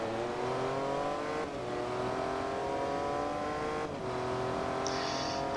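Jaguar XJ220 with a V6 engine racing in the video game Forza Motorsport 2, a loud, sustained engine whine climbing through the revs with two brief dips at gear changes, no talk.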